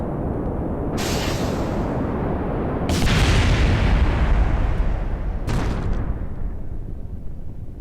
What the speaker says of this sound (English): I blew up a fuel tank.